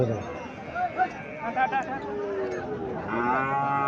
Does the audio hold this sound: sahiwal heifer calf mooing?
yes